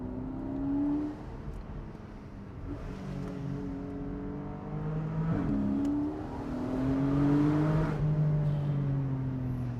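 Porsche 718 Boxster GTS 4.0 flat-six revving through the mid-range, a steady bassy rumble with rising and falling engine tones, heard from inside the car with no talk.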